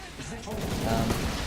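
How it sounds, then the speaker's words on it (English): Gyrocopter's ultimate missile barrage in the Dota video game, a dense, rapid volley of small explosive bursts rattling continuously at moderate loudness. "Ultimate coming in from the Gyrocopter."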